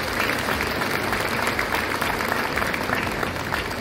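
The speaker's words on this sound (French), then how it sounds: "J'aimerais qu'on les applaudisse en guise d'encouragement." Steady, dense applause fills a large hall as an audience of around 1,100 seniors at a Lourdes communal meal claps continuously and evenly, with no voices standing out.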